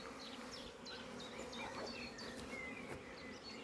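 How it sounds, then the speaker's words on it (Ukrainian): Steady, faint buzzing of a bee hovering close around a nucleus hive, a continuous insect drone with scattered chirps in the background. "Бачимо, бджола крутиться біля нуклеуса."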